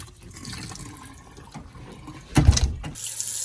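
Water runs from a kitchen sink faucet with low water pressure, a steady close splashing rush that swells louder for a moment near the end before settling back.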